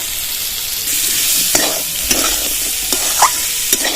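Amla being stirred in a pan with chili powder, turmeric and black salt, a soft sizzle under several sharp scraping and clinking spoon strokes at irregular intervals, close by, no voices.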